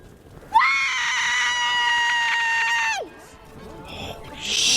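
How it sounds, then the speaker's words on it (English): A long, sustained scream from a TV drama scene, loud and harmonically rich, holding steady for about two and a half seconds before sliding down and cutting off, with quieter room sound after. "That scream!"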